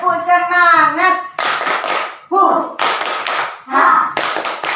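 Children clapping a rhythmic spirit-clap routine in a group, short bursts of hands in a patterned beat alternating with sung and chanted voices close by.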